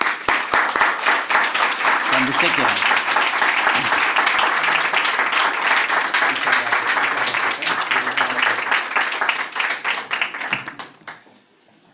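Audience in a Madrid lecture hall breaks into sustained, dense applause that fills nearly the whole stretch before tapering off at the end, with a brief spoken phrase near the start.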